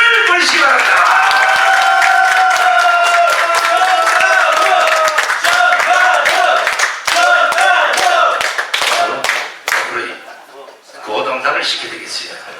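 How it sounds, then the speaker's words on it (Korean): Audience applause for a pastor at a Korean YouTubers' union press conference; dense, loud clapping close by over a sustained musical tone, thinning and breaking up toward the end with a few scattered claps. "오늘 자장을 맡으실 우리 정광 목사님께 뜨거운 박수를 보내시기 바랍니다."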